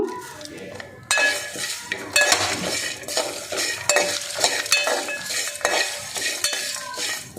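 Cashews and curry leaves fry in a pan on a gas stove while a utensil stirs and scrapes, making clinking metal contacts over a soft, steady sizzle, close and fairly loud.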